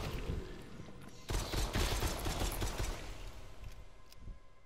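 Gunfire in the Propagation VR co-op zombie shooter, a dense rattle of rapid shots and mechanical clatter that runs continuously at steady loudness, with no voices.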